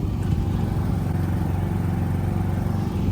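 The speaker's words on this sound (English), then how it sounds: "You can probably hear our inverter generator running in the background." A steady, low inverter generator hum drones without pause, even in level throughout, running about 20 feet away at a camper setup.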